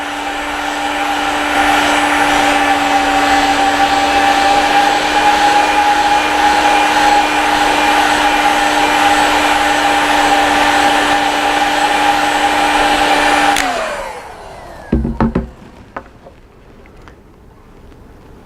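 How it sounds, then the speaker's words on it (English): A heat gun blows hard and steadily on insole material, a loud, close whirring roar with a constant tone that runs down and stops about three-quarters through, followed by a few handling clunks. "So if that arch height was too hot, I could easily adjust it using the heat gun."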